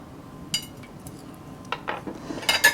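Braised beef cheeks are eased one by one into a terracotta cassoulet dish, giving soft, scattered clinks and taps of utensil against pottery over a quiet kitchen background.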